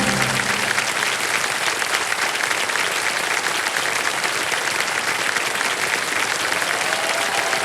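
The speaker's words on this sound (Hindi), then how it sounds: "और ताली बजते रहे इनके लिए।" Dense, steady audience applause fills the whole stretch for a contestant on the Kaun Banega Crorepati quiz show, season 17. Many hands clap together, loud and continuous, with no talking over it.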